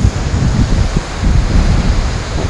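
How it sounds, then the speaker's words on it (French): Strong ocean surf at San Cristobal in the Galapagos: a steady, loud low roar of breaking waves blended with wind buffeting the microphone, with no voices. "les vagues sont quand même assez fortes"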